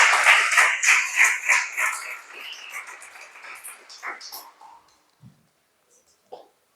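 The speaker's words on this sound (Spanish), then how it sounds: "Dale un aplauso, amado, al Señor." A church congregation applauds the Lord in steady rhythmic claps that gradually thin and fade out over several seconds, leaving near silence with a couple of faint knocks at the end.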